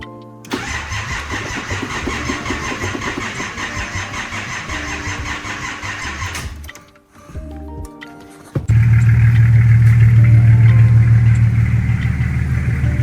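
A C33 car engine is cranked over, stops briefly, then fires and settles into a loud, steady idle, heard up close with no talking.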